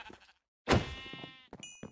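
A Minecraft sheep in the Sevtech Ages modpack gives one short, loud, wavering bleat, set between soft game clicks and thuds.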